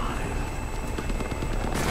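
A helicopter in the video game Deadlight gives a loud, continuous rotor roar with a thudding beat and steady engine whine, filling the whole stretch.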